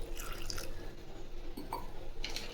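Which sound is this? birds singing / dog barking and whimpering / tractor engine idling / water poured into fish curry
water poured into fish curry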